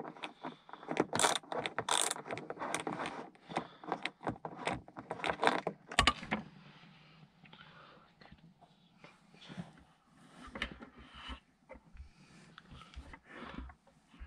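Torx T25 screws being undone on a Saab side grab handle, giving close, busy clicks, ratcheting and light metallic rattles for about six seconds, then a quieter stretch of sparse handling taps.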